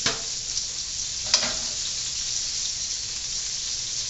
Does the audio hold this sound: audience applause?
no